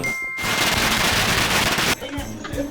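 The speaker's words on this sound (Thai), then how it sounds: "นี่จุดประทัดปังๆ" Strings of firecrackers set off during a Thai merit-making occasion, bursting into a loud, dense rapid crackle for about a second and a half before cutting off abruptly, with fainter scattered pops afterward.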